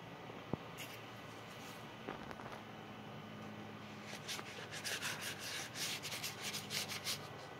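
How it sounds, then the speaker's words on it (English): Sandpaper rubbing over the painted surface of a ghost trap prop, faint and close, beginning with a few scattered scrapes and then settling into quick repeated back-and-forth strokes. "You're not trying to over sand this either."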